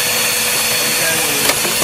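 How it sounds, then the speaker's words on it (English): A loud, steady whine of a vacuum cleaner motor runs close up without pause, with a faint rattle of debris near the end. "I used my vacuum cleaner."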